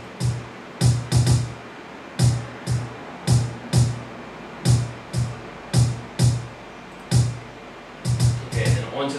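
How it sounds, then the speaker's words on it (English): A kick drum track plays alone in Ableton Live in a hip-hop beat, repeating in steady, evenly spaced booming hits with a short flurry of quicker hits near the end. It is clear and close. "so I've got my main kick track that sounds like this"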